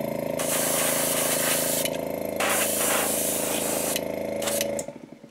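Black base coat is sprayed onto a copper lipless fishing lure: a loud, close spray hiss over a steady humming compressor drone, with short pauses between bursts, before the spray stops near the end.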